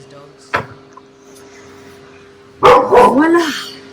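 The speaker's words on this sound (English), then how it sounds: "Must be the neighbor's dogs." Neighbor's dogs barking nearby at home, a single sharp bark early followed by a louder burst of several overlapping barks and yips near the end, with a faint steady hum underneath.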